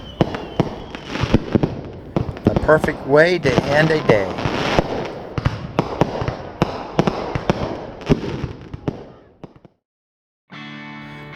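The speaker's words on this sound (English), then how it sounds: "At the end of the day Saturday, the Sxcs provided fireworks," Fireworks display at the end of the day at an SXCS dirt bike GP race weekend, with repeated sharp bangs and crackling bursts over several seconds under a speaking voice, ending in a brief silence.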